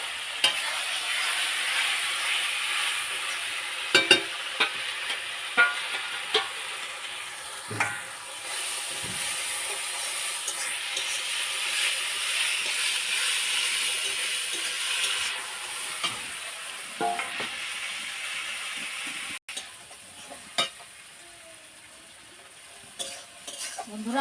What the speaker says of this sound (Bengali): এখন শুকনো মরিচ, আদা, জিরে বাটাটা সব কিছু দিয়ে দিলাম একসঙ্গে।